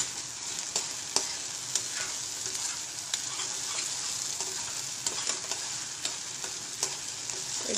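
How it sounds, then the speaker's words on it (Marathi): Maharashtrian spice paste (vaatan) for katachi aamti sautéing in hot oil, a steady close sizzle with scattered clicks and scrapes of stirring throughout, no voices. "एक 2-3 मिनिटं परतवून घेतले मी आता हे"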